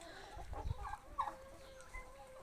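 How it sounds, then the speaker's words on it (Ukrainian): A pair of roosters kept with turkeys for sale give a few short clucks and squawks nearby, separated by brief pauses over low yard noise. "Є два півники"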